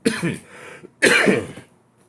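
Two harsh, close coughs from one person, each a sharp burst, separated by a short pause.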